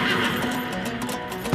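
A warrior's riding horse neighs loudly and close, a sustained whinny filling the short moment with no talk over it.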